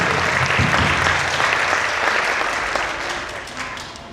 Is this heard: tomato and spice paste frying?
no